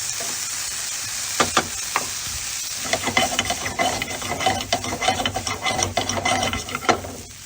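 Vegetables with cooked lentils and quinoa for a risotto sizzle in a pan while a utensil stirs and scrapes, with irregular clicks and knocks over a constant close frying hiss.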